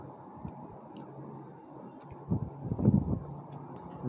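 Soft wet chewing of a bite of rice with masala-coated fried fish, close to the mouth, with a few louder squishy bites bunching near the end over quiet background.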